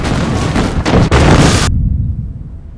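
A TNT explosion in a Korean War film scene lands as a loud, deep, close boom that rumbles briefly and then cuts off abruptly.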